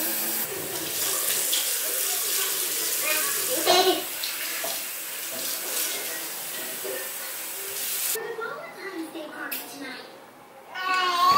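A small child plays at a sink, with tap water running and splashing and spilling over the edge. The wash of water stays steady for most of the stretch, and an adult talks over it.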